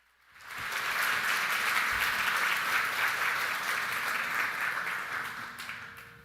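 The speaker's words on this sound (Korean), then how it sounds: "우리 강사님 나오실 때 우리 힘찬 박수로 환영하겠습니다." A church congregation at a Korean prayer-meeting worship service breaks into vigorous applause welcoming the guest preacher, swelling in quickly after a quiet start and holding as a dense, even wall of clapping.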